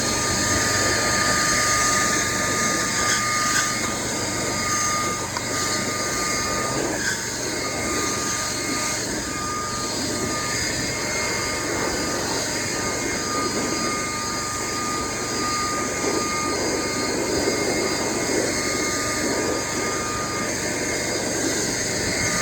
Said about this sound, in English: Then you take a DeWalt blower.